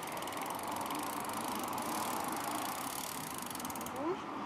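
A bicycle chain and freewheel spin backwards at a steady pace while being oiled, giving a faint, continuous mechanical whir with a brief small ticking near the end.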